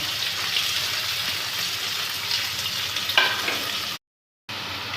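Garlic, green chilli, onion and tomato tadka sizzles steadily in a pan with occasional stirring scrapes, close and continuous before a brief dropout near the end.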